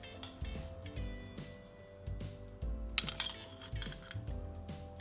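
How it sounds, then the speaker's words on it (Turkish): A spoon clinks steadily against a small pot as gelatin is stirred into cola, producing a rhythmic series of close metallic taps under a faint musical background. "Jelatinimi döktükten sonra bir karıştırıyorum ki kolayla iç içe geçsin"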